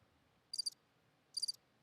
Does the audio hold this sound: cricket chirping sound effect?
yes